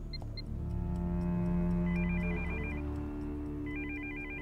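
A telephone rings with repeated electronic trill bursts while a call is being placed, the tones sounding close and clear over a steady low hum.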